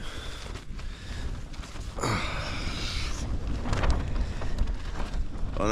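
Strong wind roars across the microphone in continuous broadband gusts on Mont Aigoual at dawn, surging louder midway and staying heavy throughout, with no talking.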